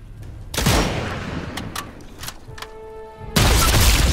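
Gunfire in the Sniper Elite 5 video game: sharp bursts of shots ring out at the start and end, with scattered single reports and a ringing tone in between.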